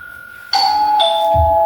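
A two-tone doorbell chime rings loud and close, a bright ding followed by a lower dong, with a brief low thump at the end.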